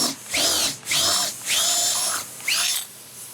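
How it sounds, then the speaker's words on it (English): A power drill whines in short bursts, drilling a 5/16-inch hole straight through, four close spurts of high-pitched spinning with brief pauses between. "So the same drill bit, just all the way through"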